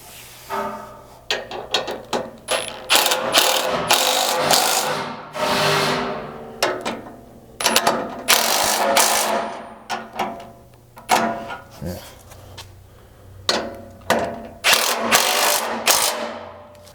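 A ratchet tightens winch plate bolts on a Bronco in bursts of rapid clicking, close and loud, broken by short pauses between runs, with no talk.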